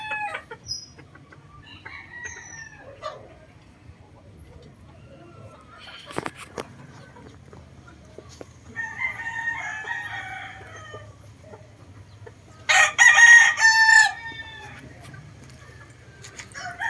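Gamefowl roosters crowing and clucking, with scattered clucks and short calls over a low background hum, then a loud crow standing out near the end.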